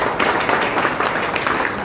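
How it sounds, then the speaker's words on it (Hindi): An audience at a university inauguration event applauding, a steady dense patter of many hands clapping throughout the short stretch. "एक बार उनके लिए ताली बजा दीजिए।"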